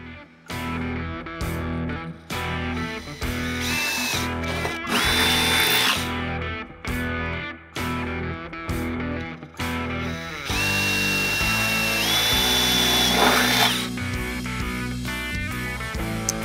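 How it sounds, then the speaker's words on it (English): Power drill boring a pilot hole with a 1/8-inch bit while fitting a ladder to a 2014-2022 fifth-generation Toyota 4Runner; loud, repeated bursts of whining motor with short pauses and changes in pitch, no talking. "we're gonna start out with an 1/8-inch drill bit as a pilot"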